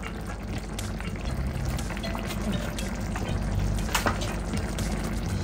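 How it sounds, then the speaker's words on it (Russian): Spicy tomato sauce going into a pan of stewing food, a steady wet bubbling and pouring sound close by, continuous and moderately loud with no talking. "И еще добавлю такой острый томатный соус немножечко"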